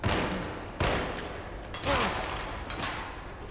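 Shotgun blasts in the video game Alone in the Dark, three sharp reports spaced about a second apart, each with a short decaying tail, fairly loud over quiet game ambience with no talking.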